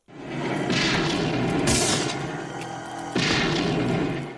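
Gunfire in a slasher movie scene: heavy booming shots in a rapid burst, loud and reverberant, with a second volley after a brief lull.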